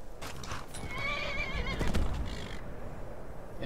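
In the video game Skyrim, a horse at the Windhelm Stables gives a loud, drawn-out whinny over steady clip-clop of hooves, close and continuous, with no talking.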